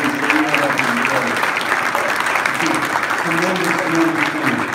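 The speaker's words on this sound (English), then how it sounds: "applause for all of these student athletes that we have up in the" Steady, loud applause from an audience honoring student athletes at a high school athletics event, with voices and cheering mixed into the sustained clapping.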